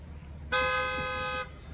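A car with a light show sounds one sustained horn blast on a street in Guangzhou. The honk lasts about a second over a low background of city noise.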